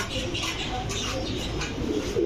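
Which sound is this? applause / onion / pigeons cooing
pigeons cooing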